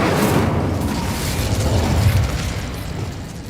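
An Incendio fire spell is cast in Hogwarts Legacy, a loud close rumbling burst of flame that roars on for a few seconds before easing off, with no talk.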